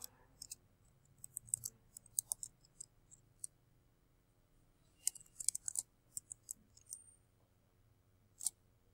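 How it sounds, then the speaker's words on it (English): Sharp, faint computer mouse clicks come in scattered bursts, single and double, across a quiet background during a Medline and PubMed literature search, with no talking. "Again, I click on it."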